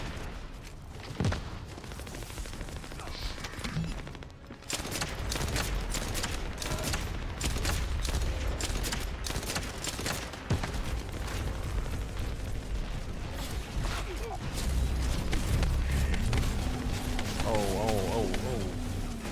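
Gunfire in the shooter game The First Descendant, including a poison-damage pistol, crackles in dense rapid bursts of sharp shots and impacts over a busy battle, with a person talking throughout.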